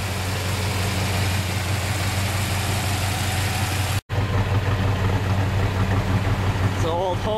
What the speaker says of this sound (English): that's the Jeep diesel